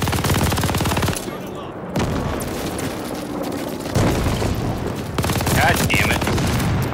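Rapid automatic gunfire from a team deathmatch video game blasts loud and close in sustained bursts with short gaps, and a player's voice curses over the shooting.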